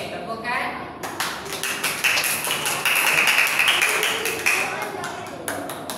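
Year 3 pupils in a Malay language classroom clap in a quick, even rhythm, a run of sharp close claps that continues for several seconds, with a voice audible over it.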